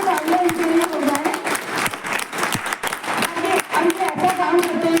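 Applause for helpers at the close of a weekly community workshop in India, a steady crowd clapping that fills the whole stretch and swells in places.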